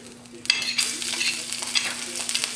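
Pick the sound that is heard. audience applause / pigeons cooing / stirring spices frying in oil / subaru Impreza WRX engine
stirring spices frying in oil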